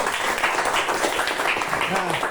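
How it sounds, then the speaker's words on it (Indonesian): Students clap together in a classroom for a classmate. The dense, continuous clapping runs throughout, with voices talking underneath. "Kita berikan tepuk tangan untuk Erin."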